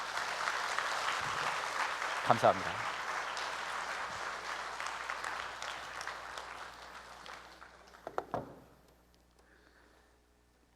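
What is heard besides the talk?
audience applause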